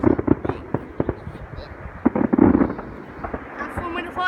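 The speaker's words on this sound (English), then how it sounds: "have fun with the fireworks." Bonfire night fireworks bang and crackle in a rapid series of loud sharp pops, some close and some further off, with the bursts thinning toward the end as a whistling rocket rises.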